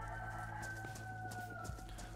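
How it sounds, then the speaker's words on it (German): A rooster crows in the DayZ video game, a drawn-out cock-a-doodle-doo with clucking, moderately distant under a steady ambient game hum. "Da geht schon wieder der Hahn."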